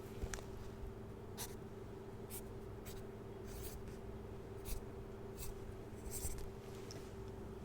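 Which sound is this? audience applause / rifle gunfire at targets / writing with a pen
writing with a pen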